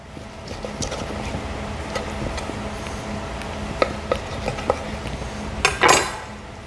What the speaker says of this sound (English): We're gonna cut it into bite-sized